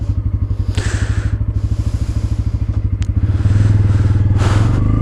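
A Bajaj Pulsar N160 motorcycle being ridden gives off a close, rhythmic engine thrum that swells into a louder, smoother drone as the throttle opens partway through.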